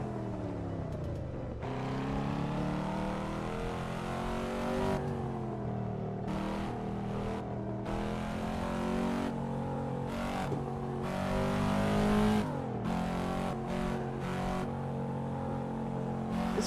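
A Volvo S60R racing in Assetto Corsa Evo, its engine revving hard through repeated upshifts, each rise in pitch broken by brief gaps, loud and close from the cockpit with no talking.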